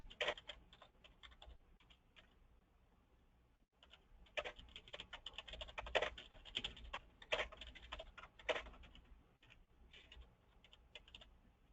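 Someone types a full name on a computer keyboard into credit card processing software, with quiet, quick, irregular key clicks in bursts and a short pause partway through.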